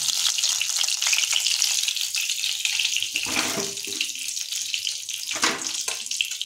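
Singi fish frying in hot oil, a loud, continuous close sizzle with a couple of louder crackling bursts partway through, no voices.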